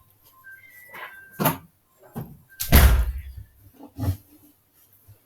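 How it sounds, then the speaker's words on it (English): Indoor door being closed: a few scattered knocks and shuffles, then a heavy thud as it shuts, followed by a softer bump, with no talking. "Let's just close the door here."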